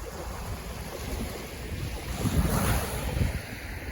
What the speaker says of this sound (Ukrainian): Підійшла поближче до води. Хто скучив за морем, можете насолодитися.